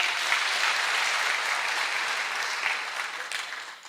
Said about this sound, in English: A big clap for the governor.